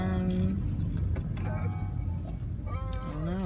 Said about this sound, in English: We're in the car.